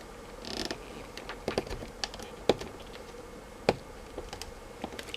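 Edges of a notebook battery pack casing being cut during disassembly, giving sparse, sharp clicks and snaps at irregular intervals over a quiet background, close and fairly faint.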